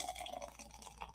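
Coors Light beer trickles unevenly from a can whose tab is only partly opened, a faint, close, sputtering pour with soft gurgles and no talk.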